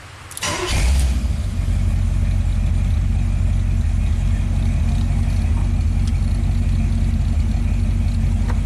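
A 1939 custom Ford engine starts up and settles into a loud, steady running drone with the AC on, a low rumble holding constant from the first second to the end with no talking.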